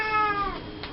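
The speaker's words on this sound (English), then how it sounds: "you might have just heard my cat meow" A house cat lets out a single drawn-out meow with a rising then falling tone, heard nearby and fairly clear over faint room noise.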